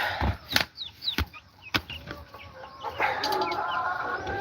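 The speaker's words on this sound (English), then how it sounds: "These are incubator chicks." Chickens cluck and peep around a farm, with incubator chicks among them. Several sharp knocks and wing flaps sound nearby, over steady background noise.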